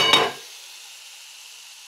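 Lentils (dal) frying in a pan for khichdi give a short, loud sizzling burst at the start that quickly fades to a quiet near-silence.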